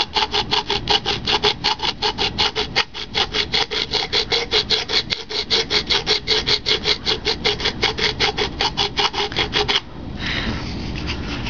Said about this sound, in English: I can actually feel the sanding block